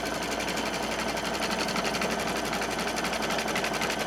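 An embroidery machine stitches a zippered pouch in the hoop, a fast, even mechanical whir and needle chatter running unbroken and close throughout, with no talk.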